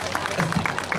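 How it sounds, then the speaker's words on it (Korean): Audience applause at a festival closing-ceremony stage show, a brief burst of dense clapping from the crowd with a voice speaking over it. "박매장님한테 좀 박수 한번 쳐드리죠."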